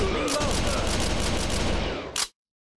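Rapid gunfire in the arcade shooter Virtua Cop 2, a dense burst of repeated shots in steady rhythm for about two seconds, loud and close, ending with one last shot before silence.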